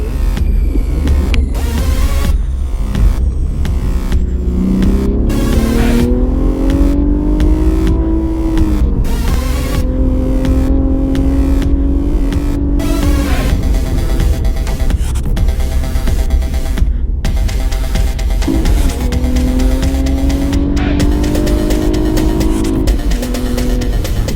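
A 2017 Cadillac ATS-V sports sedan drives with a steady, throbbing engine note, revs rising and falling through gear changes, loud and continuous with no talking.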